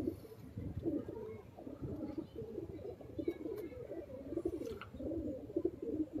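Soft, repeated cooing from a Teddy pigeon close by, low rolling coos coming in a loose rhythm with faint background noise.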